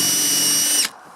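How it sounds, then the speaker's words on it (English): A power drill bores out a rivet head, a loud steady high whine lasting under a second before cutting off abruptly, leaving only faint room noise. "You take your drill, put it right there on top where you made that indentation."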